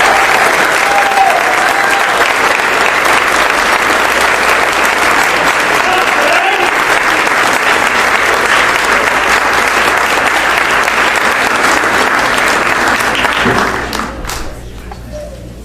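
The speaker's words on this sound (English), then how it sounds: "We can have another round of applause." At a school ceremony honouring teachers of the year, an audience keeps up a loud, dense round of applause for about thirteen seconds before it tapers off abruptly, with a few faint voices underneath.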